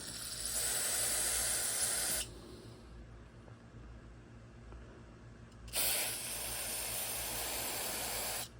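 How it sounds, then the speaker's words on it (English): Two loud bursts of carburetor cleaner spray hiss, about two and three seconds long, aimed through the holes of a 600 CFM Summit carburetor, separated by a quieter pause with faint handling noise. "I'm going to spray it through all the holes that I can see."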